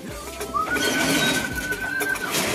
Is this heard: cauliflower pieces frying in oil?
no